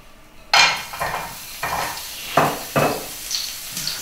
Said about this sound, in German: Pfanne ist schon heiß. Zuerst harte Gemüse.